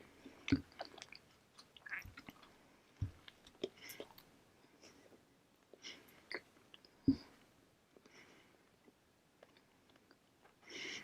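Bread with small crunchy bacon pieces being chewed close to the mic, with irregular bites and crunches scattered through a quiet background and no talking.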